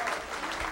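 An audience at a Mini Ms Portmore pageant claps in a brief, dense burst of steady applause from a crowd in a hall.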